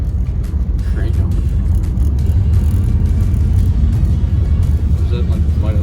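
An old 305 engine in a car cranks and runs with a steady low rumble, loud and close throughout, with people talking over it.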